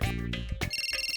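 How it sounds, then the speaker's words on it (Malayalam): Cartoon phone ringing in a kids' animated police-patrol story, an electronic ringtone with a low buzzy tone giving way to a repeating bright trill, loud and alone with no talk. "സ്വിച്ച് ഓഫ് ചെയ്ത് വച്ചതിന് ശേഷവും ഫോൺ ബെല്ലടിക്കുകയാണല്ലോ."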